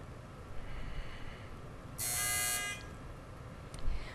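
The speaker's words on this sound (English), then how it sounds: "the buzzer sounded first" A quiz tournament buzzer sounds once, a loud harsh electronic buzz lasting about half a second amid quiet room tone.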